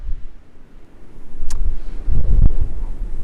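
Gusty wind buffets the microphone in low rumbling bursts, growing stronger toward the end, with no one speaking.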